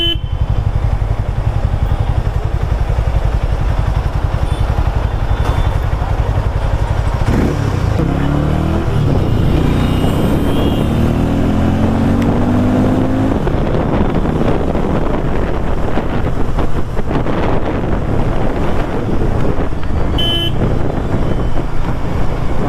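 A Harley-Davidson X440 motorcycle engine drones steadily on a test ride, loud and close, with heavy wind buffeting the microphone. The engine pitch shifts as the bike accelerates.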